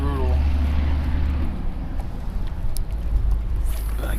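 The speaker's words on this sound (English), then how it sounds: "But the wind is just brutal." Strong wind buffets the microphone beside a canal while fishing from a boat, a continuous gusty roar with water slapping faintly underneath.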